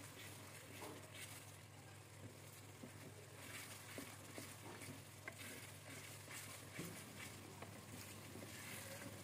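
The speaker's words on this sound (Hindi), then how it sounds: "बस चम्मच को चलाते रहना है ताकि नीचे मिसाला ना लग जाए" Masala frying in ghee in a pot while a spoon stirs it, for dhaba-style chana dal: a steady, continuous sizzle with scraping stir sounds throughout, fairly quiet and close, with no voices.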